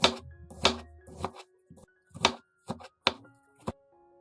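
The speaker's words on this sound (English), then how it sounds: "Red onion. Slice very thinly." A knife slicing a red onion thinly on a cutting board, giving a series of crisp, close chops in an uneven rhythm separated by short pauses.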